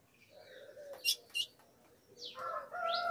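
A female blue-black grosbeak (azulão) calls in an aviary: a few sharp, separate chirps, then a brighter run of tweets near the end, close and clear over faint background noise.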